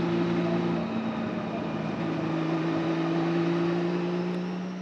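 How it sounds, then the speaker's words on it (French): A Porsche 935 race car engine holding a loud, steady turbocharged drone with sustained tonal hum, heard close from onboard, slowly fading slightly at the end. "le moteur continue d'accélérer même lorsqu'on a le pied levé"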